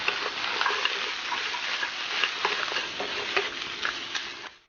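Blanched ingredients are stir-fried in a wok over high heat to dry off the water. A steady, close sizzle carries scattered scraping and stirring clicks, with no voices.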